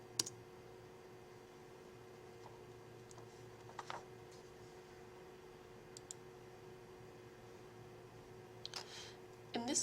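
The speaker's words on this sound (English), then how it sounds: "To accept a single transcription, click on it and press Enter." A computer mouse click and an Enter key press sound as a few quiet, crisp taps spaced seconds apart over a faint steady hum.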